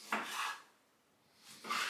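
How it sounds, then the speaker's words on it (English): A knife cuts plum tomatoes into quarters on a board in a home kitchen, two quiet slicing strokes with soft contact taps and a pause between them, close and clear with no talking. "So I cut the stem off, and then you just cut it into quarters."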